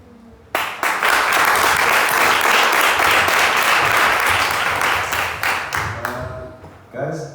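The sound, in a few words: audience applause for pitchers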